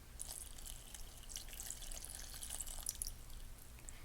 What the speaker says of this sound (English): we're going to take the water and just pour it in